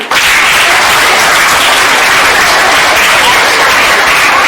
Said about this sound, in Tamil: அந்த மாணவனுக்கு ஒரு பலத்தை கைதட்டு